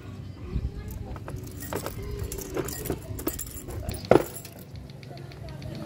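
Keys jangle while the side cover of a Yamaha YTX 125 motorcycle is unlocked, a small metallic clink peaking briefly amid low workshop background noise.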